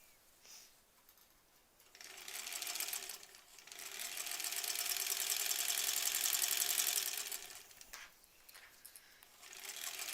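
A sewing machine stitches a label onto a quilt, its motor whirring up into a steady run of several seconds, then slowing and starting again near the end, close and fairly quiet with no talk.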